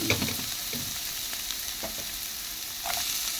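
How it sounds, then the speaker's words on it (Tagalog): Onion dropped into hot oil for beef liver in oyster sauce, a steady close hiss and sizzle with a few soft stirring scrapes and a brief louder burst near the end, no talk. "At ilalagay na natin yung sibuyas natin."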